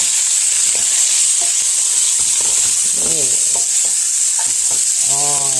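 Hash browns frying in a pan while being stirred: a loud, steady hiss of sizzling oil under scattered scrapes and taps of the spatula, with no talking.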